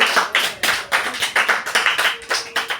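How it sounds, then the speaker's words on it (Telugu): A group of children claps in a classroom, with about a dozen quick, fairly even claps in a steady rhythm, close and lively, and no talking over them. "వెరీ గుడ్, క్లాప్స్ కొట్టండి."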